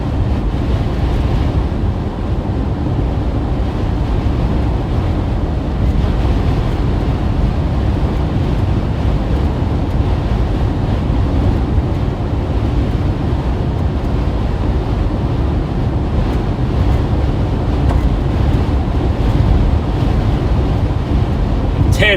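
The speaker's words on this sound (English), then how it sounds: "I'm sure you guys can hear the wind." Strong blizzard wind roars across Iowa and Nebraska, a heavy continuous low rumble with buffeting gusts that fill the whole stretch, loud and close to the microphone.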